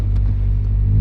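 Ford Escort RS Cosworth engine idling rough, a loud, close, continuous low rumble with an uneven, lumpy pulse and no voices.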